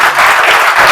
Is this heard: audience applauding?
yes